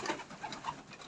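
Racing pigeons from a competition flying loft cooing softly, a few short low coos in quick succession, close and faint, with no talking.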